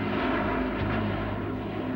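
An A-12 spy plane flies with a steady, loud engine roar, a dense broadband rumble that holds at a constant level for two seconds with no talking.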